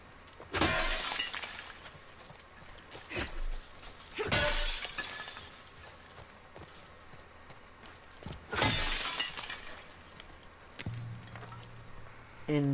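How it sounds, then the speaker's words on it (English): Glass shatters loudly several times in the video game The Last of Us Part 2, each smash a sharp crash with tinkling debris, spaced a few seconds apart over quiet ambient background. "You have to break that glass."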